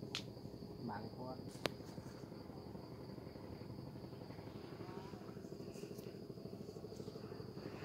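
A helicopter drones low and steady in the distance above the Mekong riverside, a faint continuous rumble under a high insect hum, with a few brief knocks and no clear approach or fade.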